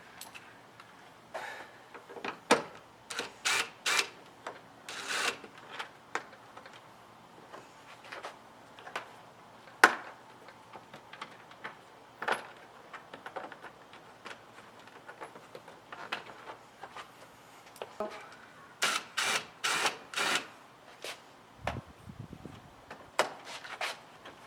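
Screws being backed out of a BMW 5 Series front grille, heard as scattered sharp ticks and small metallic clicks at irregular intervals, close and fairly quiet, with no talking.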